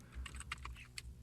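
Someone types code on a computer keyboard in a short burst of crisp key clicks, close and fairly quiet against a faint background hum.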